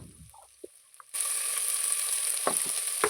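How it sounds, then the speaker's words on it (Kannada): A second of faint clinks, then a loud hiss bursts up as onion with salt and turmeric hits hot oil in a pan for sprouts sambar, and the sizzle carries on steadily with a few stirring knocks. "ಸೇರಿಸ್ಕೊಂಡು ಚೆನ್ನಾಗಿ ಫ್ರೈ ಮಾಡ್ಕೋತೀನಿ"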